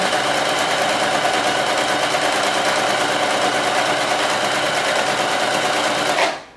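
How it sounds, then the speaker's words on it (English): An IKEA SY sewing machine stitches at full speed, a loud, steady, rapid mechanical whir and buzz running continuously for several seconds before stopping abruptly at the end. "I'm going to put my foot down, pop that in, and let's go. Now I'm going to go fast"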